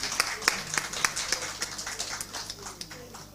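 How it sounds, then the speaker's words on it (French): A small crowd at a show claps, giving sparse, rhythmic individual claps that sound fairly close, with a faint background hum. "Applaudissez s'il vous plaît."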